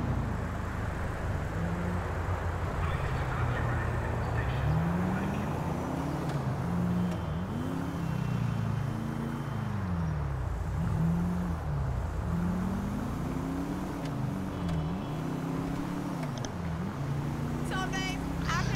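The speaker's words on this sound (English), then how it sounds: "we're using the tornado sound for the Impala" In Grand Theft Auto, an Impala car fitted with the Tornado engine sound drones steadily as it cruises, its pitch repeatedly rising and falling with throttle and gear changes, while someone talks over it.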